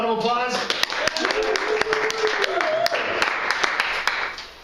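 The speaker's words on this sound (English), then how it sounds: "Let's give Paul a round of applause" A small audience claps for a speaker at a conference talk, sharp individual claps loosely spaced and fairly close while a voice and a tone run underneath.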